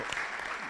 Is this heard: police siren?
no